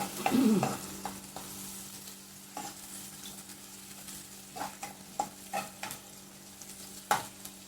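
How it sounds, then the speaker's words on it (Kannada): Sardines for Udupi-style bhuthai pulimunchi fry in a pan with a constant close sizzle, broken by a loud opening scrape and several sharp clinks and scrapes of stirring, with no voices. "ಚೆನ್ನಾಗಿ ಫ್ರೈ ಮಾಡುವ"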